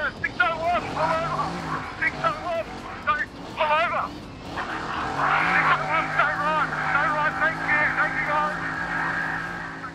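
An off-road side-by-side racing vehicle at the Finke desert race, its engine rising and falling as it passes, while a commentator talks excitedly over it throughout.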